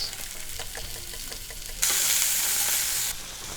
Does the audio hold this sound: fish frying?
yes